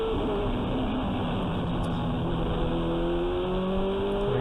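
Onboard a turbocharged race car, the engine drones loud and continuous at full throttle, its pitch climbing steadily as it accelerates onto the main straight.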